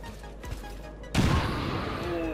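Explosion in the XCOM 2 War of the Chosen strategy game: a sudden loud broadband blast at about the midpoint with a rumbling low body, followed by a sustained noisy roar and debris wash. Quieter game ambience comes before it.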